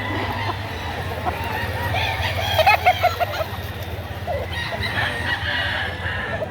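Chickens and roosters at a chicken market in Lipa, Batangas cluck and crow over a busy crowd murmur, with one louder crowing burst near the middle and people talking in the background.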